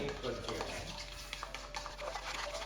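A whisk beats eggs in a bowl for lemon madeleines, a quick, continuous scraping and swishing rhythm heard close and fairly quiet.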